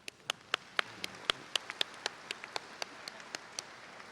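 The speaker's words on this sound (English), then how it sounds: "I want to give them a round of applause" A few individual claps at a commencement ceremony, sparse and evenly spaced sharp hand claps, fairly quiet against a faint room background rather than full crowd applause.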